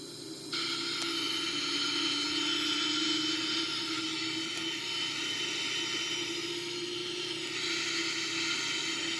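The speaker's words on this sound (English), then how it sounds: "You can see the right wing engine start spinning" Boeing 777-300ER right-wing jet engine spinning up in a flight simulator game, a steady layered whine and roar with high tonal hum that switches on sharply and holds loud and even throughout, no voices.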